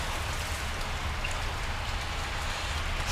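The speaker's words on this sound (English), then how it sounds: "the worst thing is that it's raining a lot." Heavy rain on a bike trip to the Baltic Sea drums in a dense, constant patter close by, loud and unbroken throughout, with no voices.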